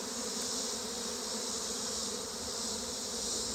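Honey bees on a hive frame being reduced for winter, a dense steady buzzing drone that stays close and constant throughout, with no voices.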